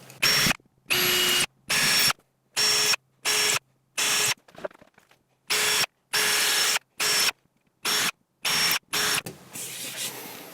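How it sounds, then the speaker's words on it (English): A power drill bores 3mm pilot holes in wood for a guitar hanging rack, about ten loud, close whirring bursts of roughly half a second each, separated by short silences, with a brief softer handling noise near the end. "So I'm going to use a 3mm pilot hole for these."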